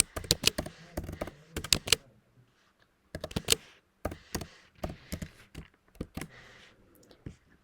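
Crisp clicks of typing on a computer keyboard during a beginner HTML coding session, coming in quick bursts of keystrokes with a pause in the middle, close and fairly quiet.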